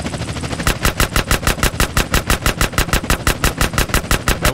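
Rapid automatic gunfire in the GTA San Andreas video game, a loud close burst of evenly spaced shots at roughly five per second that runs continuously after a brief lead-in.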